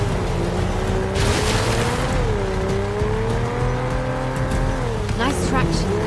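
Video game car in 007 First Light drifting through sharp handbrake turns, with a steady loud engine drone, rising and falling revs and bursts of tire squeal, all continuous and close.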